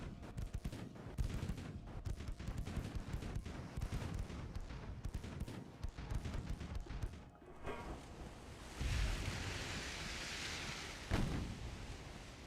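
Naval artillery fire in the warship game Ultimate Admiral: Dreadnoughts, a dense barrage of overlapping booms and cracks giving way to a rumbling, hissing wash with one more loud blast near the end, heard alone without talk.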